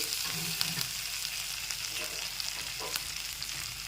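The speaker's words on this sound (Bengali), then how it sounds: "মশলাটাকে একটু নেড়ে চেড়ে নিচ্ছি" A spice mixture of turmeric and chili powder with a little salt is stirred and fried in hot oil in a pan, giving a steady close sizzle with soft scraping strokes throughout.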